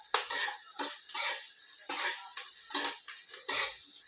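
Onion and potatoes fry in a pan, with repeated stirring scrapes and clatters over a quiet sizzle, close and fairly faint, coming in uneven bursts.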